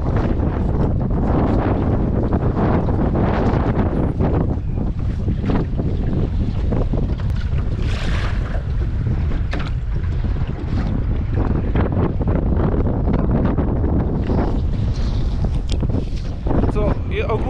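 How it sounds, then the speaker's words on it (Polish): Strong wind gusts roar across the microphone on a small boat fitted with a MotorGuide Xi3 bow motor, with big waves slapping and splashing against the hull in continuous loud turbulence. "jest wielka fala, mocne podmuchy"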